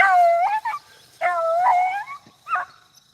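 A beagle named Memphis bays on a rabbit hunt with long, drawn-out howling cries in three bursts, the first two sustained and the last shorter, loud and close with no talking.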